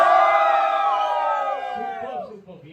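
A crowd cheers and whoops at a bikers club's fifth anniversary event in Nashik, a loud, sustained mass of shouting voices close by that slowly tapers off over a few seconds.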